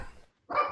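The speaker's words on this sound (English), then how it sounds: "You hear my dog." Dog barking indoors, a single short bark heard close, with a brief quiet gap before it and muffled sound before the gap.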